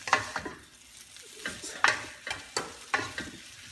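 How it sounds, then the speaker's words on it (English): Fish balls being stir-fried with fried tofu and rice noodles in a pan for pancit bihon, with close, irregular scraping and stirring clatters of a utensil over a soft sizzle, no talking. "we're gonna add the fish ball. Yeah, we're gonna mix them together again."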